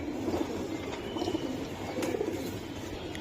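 Benaras pigeons coo in a steady, overlapping low murmur, close and continuous throughout, with no voices.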